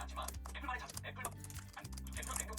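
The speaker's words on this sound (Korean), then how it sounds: "제 현란한 키보드 사용 모습을 좀 보여드릴게요." Fingers tap rapidly on a computer keyboard entering editing shortcuts, a quick irregular patter of clicks over low background music, close and fairly quiet.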